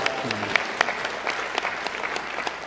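Members of a Korean church congregation applaud one of their own with a steady patter of hand claps, moderately loud and even, with a brief voice at the start.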